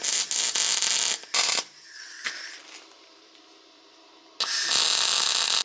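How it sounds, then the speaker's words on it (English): Spot welding a flat steel bar onto a tractor subsoiler: two loud bursts of crackling arc hiss with short gaps, a quieter stretch of faint clicks and clanks, then a final sustained loud welding buzz. "I've just spot welded the flat bar onto the subsoiler there"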